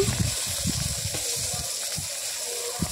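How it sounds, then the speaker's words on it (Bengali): Fish fried in a pan with salt and turmeric gives off a steady, close sizzling hiss, with occasional soft pops and clinks underneath. "দেখো মাছটা প্রথমে একটু ভেজে নিচ্ছি"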